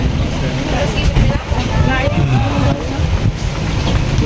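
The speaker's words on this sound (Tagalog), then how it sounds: "di ba ang hangin dito?" Heavy wind on a hilltop view deck in Mapita buffets the microphone in a steady low roar, with a voice speaking briefly over it.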